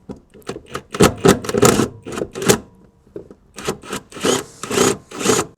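A power wrench unscrews the 8 mm bolts holding the fuel pump basket in a Subaru's fuel tank, giving a series of short, close whirring bursts in two clusters with a brief pause between them.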